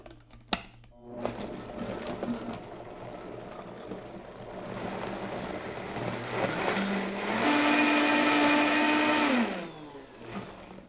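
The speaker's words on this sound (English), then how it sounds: "now we are ready to blend" A blender whirs through a vegan avocado key lime dessert filling of avocado, lime juice, lime zest and a pinch of salt, running loud and steady for several seconds with its pitch rising as the mix smooths, then spinning down.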